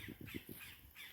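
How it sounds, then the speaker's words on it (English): A noisy bird, probably a crow, gives four quick harsh calls in a tight burst near a dry garden with a lemon tree, then falls quiet against faint outdoor background. "let's follow the noisy bird"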